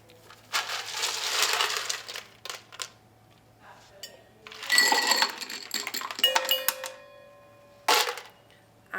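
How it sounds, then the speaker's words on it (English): Ice cubes are added to a glass for a peppermint martini-style cocktail, with a long rattling crunch and clatter of cubes followed by a few separate bursts of clinking. "you're going to add plenty of cubed ice"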